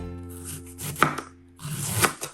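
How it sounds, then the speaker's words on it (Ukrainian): A knife slicing through beetroot or other borscht vegetables close by, two or three crisp cuts against a board with soft scraping in between, no talking. "І обережно починаємо різати."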